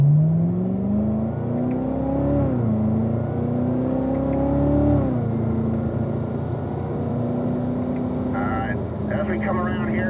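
A car on a race track accelerates back up to speed, its engine note climbing steadily, easing, then rising again as a loud, continuous drone. A voice talks over it.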